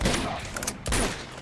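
Gunfire bursts in the Uncharted 2 video game, a few quick rattling volleys with a sharp crack, followed by another loud burst near the middle of the short stretch.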